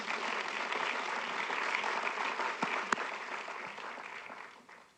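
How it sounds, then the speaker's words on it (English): A lecture audience at a university applauds, a steady wash of clapping that holds for several seconds and then tapers off, with a single sharp clap standing out partway through. "let's have a round of applause for that"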